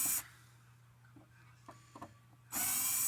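A power drill whirs loudly for a moment while removing screws from an air conditioner motor, drops to near silence with a few small clicks, then whirs again up close.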